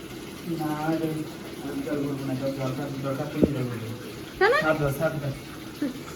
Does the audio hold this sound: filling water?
yes